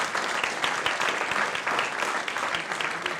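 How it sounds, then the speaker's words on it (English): Audience applause after a panel event on TV tech careers, a steady dense clapping from a crowd that fills the whole moment without pause, with faint murmurs underneath. "big round of applause for that"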